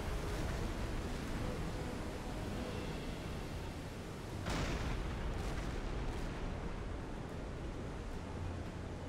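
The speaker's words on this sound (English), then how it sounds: "Big wave. Hold on, everyone." A big ocean wave crashes around a submarine in Silent Hunter 5, heard as a loud, continuous roar of churning sea with a surge of noise midway and no voices.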